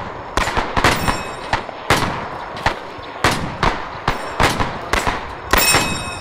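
Machine gun fire in Arma 3, sharp bursts of close, loud shots in an irregular rhythm, roughly a dozen cracks spread over several seconds with no voices.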